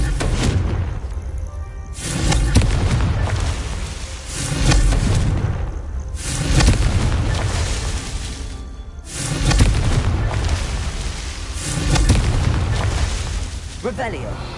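Repeated blasting-spell explosions from the Hogwarts Legacy video game, a series of loud booming bursts roughly every three seconds, each swelling and fading, with game audio filling the gaps.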